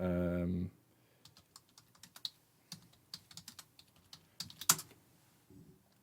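Quick bursts of typing on a computer keyboard, light irregular clicks close by and fairly quiet, following a short hum at the start.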